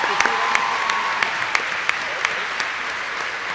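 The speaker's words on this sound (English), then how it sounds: "another big round of applause for Christina" A crowd at a 2015 Chicago Blackhawks fan convention gives Christina a sustained round of clapping, dense and steady from start to finish, with a few sharper individual claps standing out.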